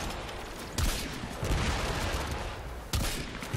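Rapid automatic weapon fire from a player's gun in the game Warframe rattles on in dense sustained bursts, loud and continuous, with a few sharper impacts standing out.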